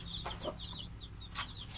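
A black hen clucks softly in short, repeated bursts alongside high chirping of her chicks, fairly faint and steady.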